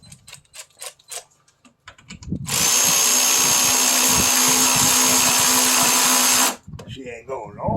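A power drill runs down a bolt during a radiator replacement on a 2005 GMC Sierra 1500, with light clicks and handling noises first, then one loud sustained whir lasting about four seconds.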